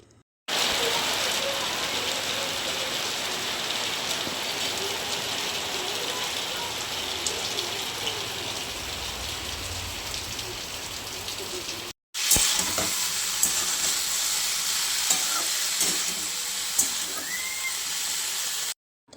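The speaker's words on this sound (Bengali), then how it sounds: "তারপরে আলু ভাজা কমপ্লিট হয়ে গেল" Potatoes frying in oil in a pan, a loud steady hiss and crackle that runs nearly unbroken, briefly cut off and then resuming just as strongly.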